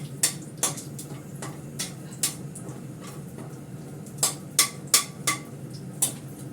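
Dried red chillies fry in a pan while a metal spatula stirs them, giving sharp, irregular clinks and scrapes over a soft, steady sizzle.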